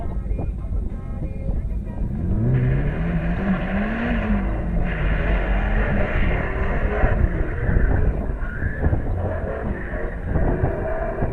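A drift car at a drifting event revs hard and slides, its engine pitch sweeping up and down in rising and falling pulls with a steady roar throughout, while voices talk over it.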